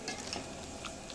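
Chicken curry sizzles and fries steadily in a pan, a dense close hiss with faint stirring scrapes throughout the short stretch, no voices.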